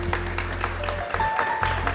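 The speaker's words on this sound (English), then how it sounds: "Please, a huge round of applause." An audience at a mayor's gala applauds steadily for a couple of seconds, a dense crowd clapping over a low background hum.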